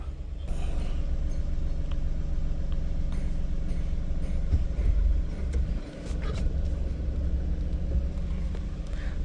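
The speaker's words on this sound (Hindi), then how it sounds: "तो बस हटा ही रहे हैं स्कॉर्पियो।" A Mahindra Scorpio SUV rumbles close by as it is moved out of the way, its engine a steady low drone with a few faint knocks and clicks.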